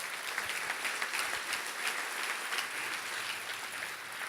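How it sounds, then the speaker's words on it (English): Audience applause at a panel event on sea level rise, steady dense clapping from a crowd heard at moderate distance, even and sustained throughout. "So please join me in a round of applause for all of them."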